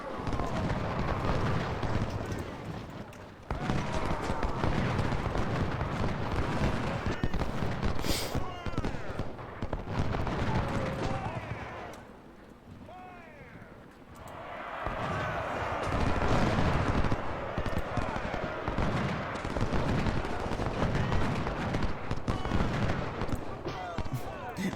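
Artillery salvos in the Civil War strategy game Ultimate General at the Battle of Fredericksburg, a dense, continuous roar of booming cannon fire and rumbling blasts that briefly thins out partway through before swelling again.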